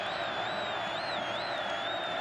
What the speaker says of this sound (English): a large crowd here at Jones AT&T Stadium